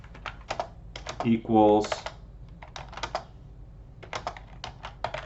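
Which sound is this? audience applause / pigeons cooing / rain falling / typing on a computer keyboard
typing on a computer keyboard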